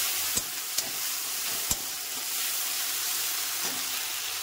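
Ginger-garlic paste stir-fries in hot oil with onion and tomato, a continuous close sizzle broken by three or four sharp clicks of a spatula against the pan, with no voices.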